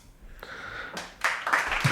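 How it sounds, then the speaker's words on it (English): A few hand claps, close and fairly soft, starting as scattered taps and picking up into a short burst of clapping near the end. "Give us a clap."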